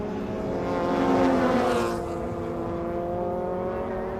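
Honda race cars circling the track at a TSS 2018 race, a steady mid-distance engine drone that swells briefly as a car passes, then settles into a continuous hum.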